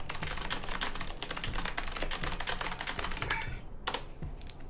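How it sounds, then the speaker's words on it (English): Rapid clacking keystrokes on a computer keyboard, close and fairly loud, run in a dense continuous burst, then break off into a brief pause near the end. "Loud tippy typing."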